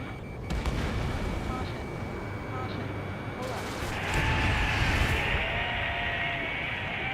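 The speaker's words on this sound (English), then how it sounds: "Missile. Strutter 1, Fox 2." Missile launches and explosions in the Ace Combat 7 air-combat game, with heavy rumbling booms and blasts, a sharp crack early on and a louder roaring surge midway, set against dense battle noise.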